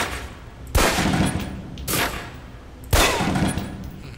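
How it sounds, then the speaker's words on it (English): Pistol shots crack at a firing-range target in the video game Alpha Protocol, three loud, separate reports about a second apart, each with a short echoing tail and no talking. "Equip the pistol, then aim down range and take some shots at the target."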